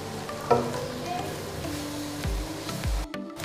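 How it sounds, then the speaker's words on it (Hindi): Onions with a spoonful of garlic fry and sizzle in a pan while being cooked for okra and mutton curry, a steady soft hiss with a few stirring scrapes and clinks, close and moderately quiet. "प्याज को फ्राई करेंगे।"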